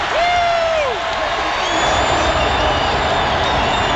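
A football crowd cheers and applauds in a loud, sustained wash of noise, with a few whistles and whoops rising above the steady roar throughout.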